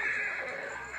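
A brief horse whinny, thin and strained, rising over steady background noise, from the TV show The Walking Dead.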